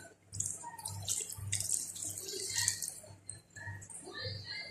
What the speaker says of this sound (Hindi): और अब इसमें मैं 1 गिलास के करीब पानी डाल दूंगी।